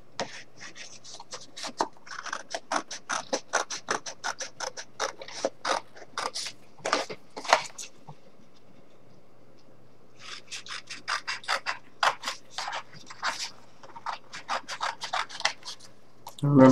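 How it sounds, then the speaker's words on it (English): Scissors snip through paper or cardboard while cutting out a war banner pattern, a brisk run of close, crisp cuts, a pause of about two seconds, then another steady burst of snipping. "So we'll go ahead and cut this out. This time we'll use the scissors."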